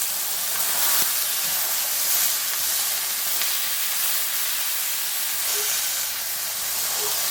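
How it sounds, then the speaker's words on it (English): A steady, close hiss of oil spray on a sizzling smash taco patty in a pan, bright and airy with no talking over it. "put just a slight spray of oil on the top so it crisps up"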